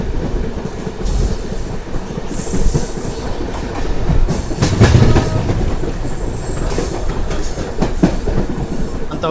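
A MEMU express train running on rails through a curve, with continuous rumbling, rhythmic clickety-clack and occasional high wheel squeal, heard close from on board.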